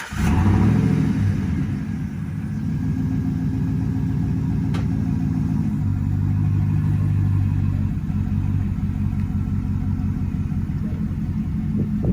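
A 2011 Chevrolet Silverado truck engine with a cutout exhaust rumbles loudly and close, a deep steady throbbing idle with a brief swell at the start, no voices.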